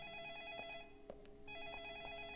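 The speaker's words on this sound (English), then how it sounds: "You gotta answer the phone." A phone rings in Deadly Premonition, a PS3 game, with a steady electronic bell that repeats in short bursts, brief gaps between rings, and a faint background hum.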